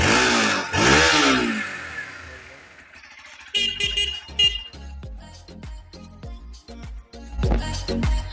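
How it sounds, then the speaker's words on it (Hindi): A Hero XPulse 200 4V motorcycle from 2022 revs its engine with a few rising and falling exhaust sweeps, loud and close at first, followed by a busier mix of engine and other sounds. "लेकिन उससे पहले एग्जॉस्ट नोट।"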